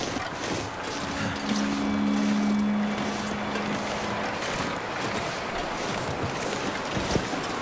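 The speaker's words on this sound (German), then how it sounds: "es ist sehr, sehr windig" Strong, stormy wind in The Long Dark survival game near a mountain summit during an aurora, a steady loud gusting roar with a brief whistling tone early on, no voices.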